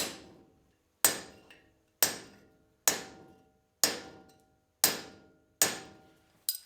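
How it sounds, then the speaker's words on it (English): Hammer tapping a drift to seat a trailer wheel bearing race, struck seven times at a steady pace about a second apart. Each sharp metallic ring is close and decays quickly, with no talking in between. "Use our drift. You'll hear the note change when that bottom's out."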